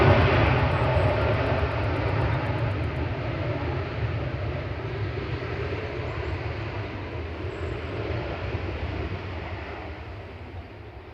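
A Virgin Atlantic Airbus A330-300 jet at Manchester Airport gives off a steady, loud engine roar and rumble that holds constant throughout, heard outdoors without speech.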